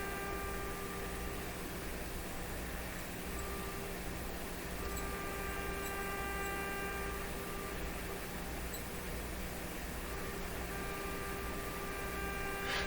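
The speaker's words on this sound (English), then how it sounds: "Now I'm going to tune the radio back and forth." An RCA Victor A38 shortwave tube radio being tuned gives off a steady, distorted static hiss with faint sustained whistling tones that shift slightly throughout, fairly quiet and without voices.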